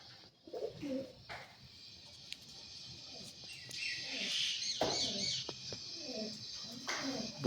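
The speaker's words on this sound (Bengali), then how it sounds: "হাওড়ার বিখ্যাত দাসু লাইনের পায়রা।" Dasu line pigeons, a famed Howrah breed, coo in repeated low rolling phrases among the flock, close and clear over a steady hiss, with a brief murmur of people nearby.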